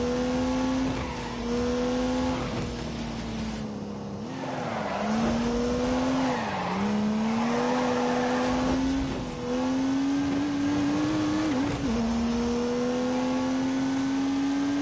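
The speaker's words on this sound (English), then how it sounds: "unleashed 365 rampaging horsepowers from the turbocharged 3-litre straight 6" A turbocharged 3-litre straight-six race car in The Grand Tour Game accelerates and revs hard, its engine note rising and dipping through gear changes with faint tyre squeal, loud and continuous.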